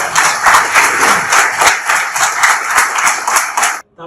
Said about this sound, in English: So have a huge applause.